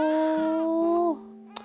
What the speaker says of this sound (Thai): ลูกร้องอีกแล้ว